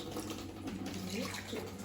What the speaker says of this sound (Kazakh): Жылы судан 2 кесе су.